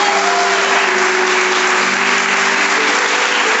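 A church congregation applauds in a dense, steady wash of clapping that stays loud and even throughout, with a faint sustained tone beneath it.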